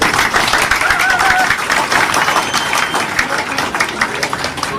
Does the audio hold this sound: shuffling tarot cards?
no